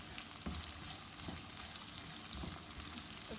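Onions sautéing in a pan for a Filipino mung bean (munggo) dish: a steady close sizzle with a few spoon stirs and scrapes, no talking.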